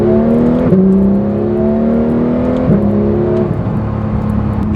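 Porsche 911 GT3 engine revving hard from inside the car, rising harmonic wail climbing through the rev range twice with quick gear shifts between pulls, loud and close with no talk.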